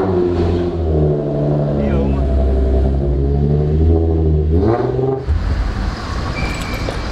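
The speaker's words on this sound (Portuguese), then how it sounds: "Eu vou botar o carro na carretinha e vou deixar a câmera filmando aqui." Nissan 350Z engine revving as the car is driven onto a trailer, a loud close throaty rumble rising and falling in pitch, fading toward the end under traffic-like noise.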